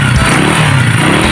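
A Rusi 150 motorcycle engine revs hard in a loud, close, rough mid-pitched roar that holds steady over a short burst.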